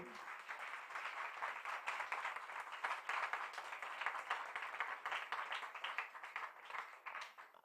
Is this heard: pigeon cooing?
no